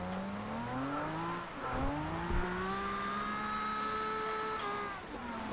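A 1969 Nissan Fairlady Z in Forza Horizon 2 drifts on a rainy track, its engine droning steadily with rising and falling revs, a couple of quick gear-shift dips, and continuous loud tone throughout.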